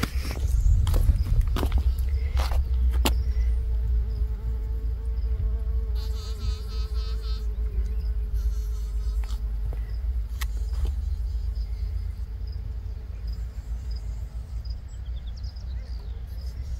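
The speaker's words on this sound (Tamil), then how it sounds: "கொசு இருக்குங்க, நிறைய கொசு" Insects buzzing around the green, damp Tawi Atair sinkhole near Salalah, Oman, during the khareef season, a constant close drone over outdoor background noise and passing engine hum, with scattered clicks and brief voices.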